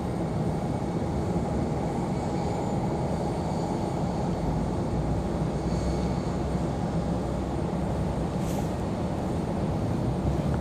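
An airliner departing Raleigh Durham International for Fort Lauderdale gives a continuous, even jet rumble that stays steady and fairly loud throughout, with no voices.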